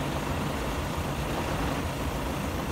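Steady, rumbling drone of an old combine harvester engine in Farming Simulator 17, a constant broad mechanical roar with no breaks, heard alone.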